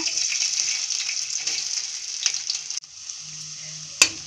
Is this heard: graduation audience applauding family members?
no